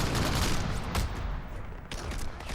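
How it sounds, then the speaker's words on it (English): A grenade goes off in the video game Crackdown, a loud, dense burst of explosive noise that fills the whole clip with rumbling blasts and crackling debris, with no clear pause. "Oh, that's a grenade."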